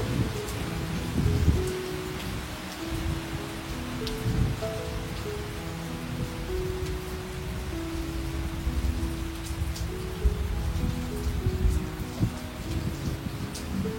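Steady rain pours down on a farm in a continuous wash of noise, with drops striking a surface nearby and no voices.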